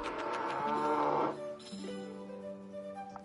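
A cow moos in a video game, one long, loud low moo that breaks off, then a softer, steadier lowing tone trailing after it, with no voices.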